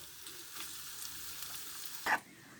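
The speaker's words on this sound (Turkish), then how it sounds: "Hemen bir yanda yağları eriyerek etim kavrulurken" Quiet, steady sizzling of meat frying in its own melting fat in a pan for saç kavurma, with a brief louder clatter near the end.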